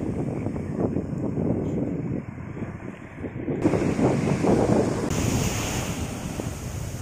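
Sea waves breaking on Manjeshwar beach in Kerala, a continuous roar of surf with rising and falling swells, heavy wind buffeting the microphone, no voices.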